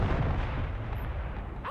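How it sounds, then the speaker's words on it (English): Artillery fire in the video game Broken Arrow, a dense rumbling barrage of booms blending into a continuous roar, loud and sustained for under two seconds. "My artillery."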